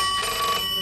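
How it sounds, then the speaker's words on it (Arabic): A telephone in an office rings with a bright, continuous electronic trill heard alone for a brief moment at moderate volume. "التليفون بيضرب"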